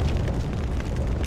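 A heavy, rumbling blast from the video game XIII fills the whole moment, dense low-end booming with crackling debris on top, loud and close with no talking.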